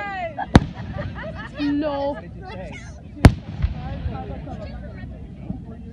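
Fireworks explode outdoors: two sharp, loud bangs a few seconds apart. People talk and exclaim between and over them.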